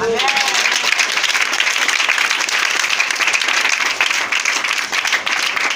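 A church congregation applauding and cheering in praise of God, steady loud clapping from a large crowd throughout, with a voice speaking over the applause.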